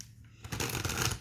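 A deck of oracle cards riffled and shuffled close by, a soft start giving way to a dense, fluttering rush of card edges over about a second.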